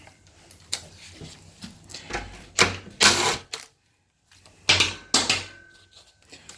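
A socket wrench undoes 13 mm bolts on a Briggs & Stratton engine during a teardown, giving bursts of sharp ratcheting clicks with short pauses between them, close and fairly loud.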